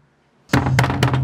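Loud, close knocks on a door in a home, a burst of heavy thuds starting midway and repeating in quick irregular clusters, with no talking over them.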